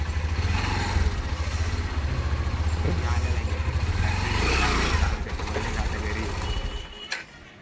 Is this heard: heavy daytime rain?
no